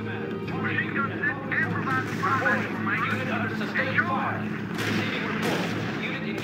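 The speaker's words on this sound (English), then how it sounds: "Unit under sustained fire." Gunfire and artillery from the R.U.S.E. strategy video game rumble continuously in the background while game voices speak over the battle noise.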